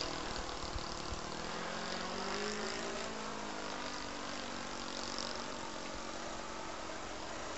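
A Seagull 40 model aircraft powered by an OS FL70 engine flies with flaps lowered, its engine buzzing steadily and fairly loud, with a slight pitch wobble partway through.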